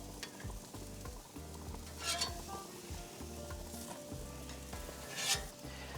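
Salmon burgers set into a hot pan with a spatula, a low steady sizzle with metallic scrapes and a few brief clinks of utensil on pan, quiet and without voices.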